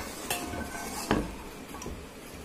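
A metal pressure cooker clanks and clinks as it is handled, a few sharp knocks over a steady background hiss.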